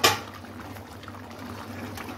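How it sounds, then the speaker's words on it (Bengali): Fish and ridge gourd curry simmering in a pot, a faint soft bubbling over a low steady hum after a brief clatter at the start, quiet and close. "দেখুন কি সুন্দর ফুটছে ঝোলটা"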